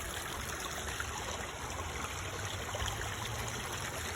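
Floodwater rushes steadily through woodland, a dense, constant roar of flowing water with no breaks, fairly close and loud throughout.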